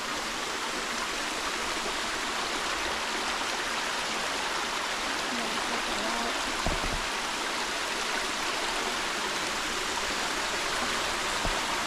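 Steady rushing water pours and splashes continuously, a broad even wash of noise from a small cascade in Hickory Run State Park with no voices.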